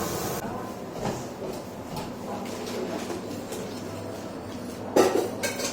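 Mushrooms dusted with pepper powder are tossed in a pan, giving a steady sizzling scrape and soft stirring, then a sharper metallic clatter near the end.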